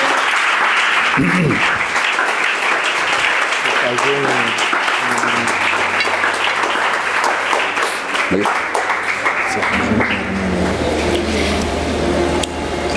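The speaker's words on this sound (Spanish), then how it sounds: "Denle un aplauso al Señor. Dá um aplauso." A church congregation at a deliverance seminar applauds in a loud, dense, steady roar of clapping that lasts throughout, with voices calling out over it.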